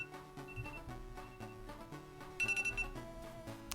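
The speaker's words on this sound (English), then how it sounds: "There's my alarm." An alarm clock rings through a busy mix of game music, a bright repeated trill that bursts out loudly partway through and then stops.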